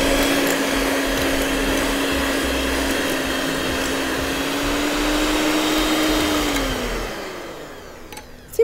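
An electric mixer beats sponge cake batter for a Victoria sponge, its motor whirring steadily and loud close by, dropping in pitch near the end as the beaters are lifted, then falling quiet.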